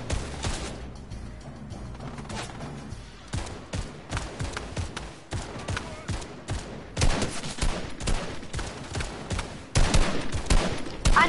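Repeated gunshots ring out in Fortnite, loud bursts and single cracks in irregular clusters throughout, some rapid and close, others spaced apart.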